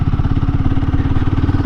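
Royal Enfield Guerrilla 450 single-cylinder motorcycle engine running while riding, a close, steady low-pitched thumping pulse with mechanical clatter and no talk over it.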